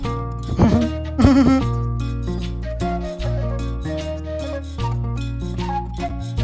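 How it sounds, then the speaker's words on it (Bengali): Goats bleating at a village goat market, the old Goalimandra haat in Bikrampur: two clear, wavering bleats close together early on, over a steady, busy background hum. "অনেক ছাগল এখানে আছে"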